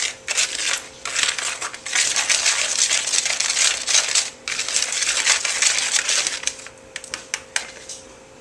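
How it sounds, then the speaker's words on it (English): Dehydrated chocolate pudding mix being stirred with a whisk, giving a close, dry, gritty scraping and crunching that runs nearly continuously in quick strokes, with a couple of brief pauses and some sharper ticks near the end. "we're going to take our whisk, and we're going to whisk up our chocolate mix"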